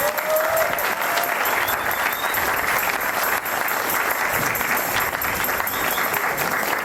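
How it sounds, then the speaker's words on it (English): Audience applause at a seafront town band summer concert in Lyme Regis, a steady, dense clapping from an outdoor crowd that carries on at even loudness throughout, with no speech over it. "I think another round of applause."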